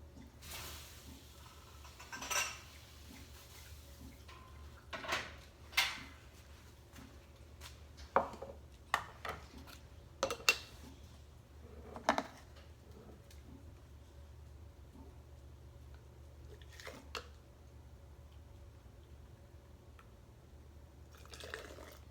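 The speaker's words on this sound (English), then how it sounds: "I'm going to start grabbing jars and getting them filled." Glass canning jars clink and knock while being handled and filled with unsweetened cranberry juice, a run of sharp separate taps and clatters over a steady low hum, with soft liquid pouring between them.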